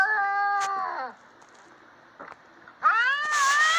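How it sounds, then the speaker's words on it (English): Two cats meow loudly and close by, one long wavering cry followed by a quieter pause with faint noises, then another drawn-out rising meow that overlaps a second cat. "What cats are those?"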